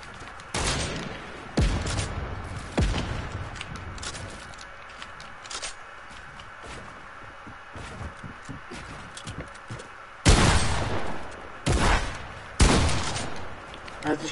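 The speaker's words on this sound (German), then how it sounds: "Er hat mich geschossen, Digga." Gunshots crack out in a video game: sharp, loud bursts arrive in irregular clusters, with a few close single shots and a heavy volley near the end, over quieter background noise and faint voices.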